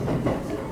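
A single-car diesel railcar rattles steadily along the line near Gobo in Wakayama, a close, continuous rumble with faint rhythmic clatter and no speech.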